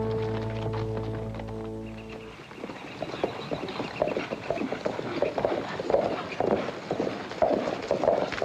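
Horse hooves clip-clop across ground in a western film scene, beginning after a sustained tonal passage and continuing as a steady, moderately loud walking rhythm with no talk over it.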